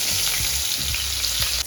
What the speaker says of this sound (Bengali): তেল গরম হচ্ছে, মাছগুলো আমি ভেজে দিই